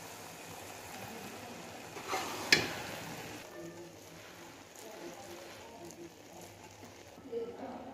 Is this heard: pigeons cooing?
no